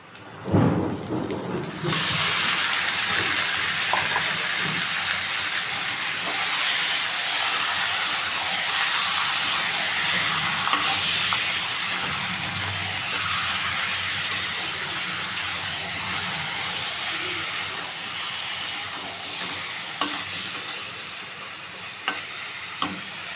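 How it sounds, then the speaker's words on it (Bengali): Marinated meat dropped into a hot wok of fried onions for a meat curry, bursting into a loud, dense sizzle that holds steady, with sporadic clanks and scrapes of stirring and no speech. "এবার আমি মেখে রাখা মাংসটা দিয়ে দেবো"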